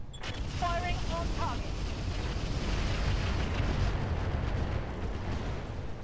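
Weapons fire and a vehicle exploding in the Roguetech mech game, a dense continuous rumble of blasts and booms with a brief voice-like game sound early on.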